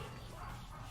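A dog barks in a Nintendo video game, a brief, faint yip sitting low in the mix beneath a steady wash of game sound.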